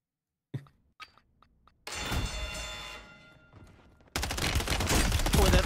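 Video game gunfire as bullets hit an enemy: a few sharp, isolated clicks and pops, then a loud burst of rapid shots that fades, then another sustained heavy volley of fire.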